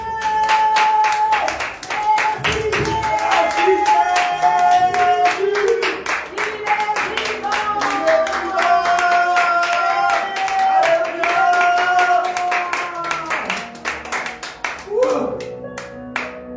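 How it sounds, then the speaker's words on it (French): During a church worship service a congregation claps rhythmically and steadily along with loud singing and music, the regular claps running under sustained voices for the whole stretch. "Applaudis ton Dieu"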